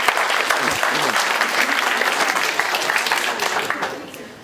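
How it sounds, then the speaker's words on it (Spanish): An audience in a university lecture hall bursts into loud, steady applause for a student that fills the room for a few seconds before starting to fade. "vamos a darle su aplauso a nuestro compañero Josué."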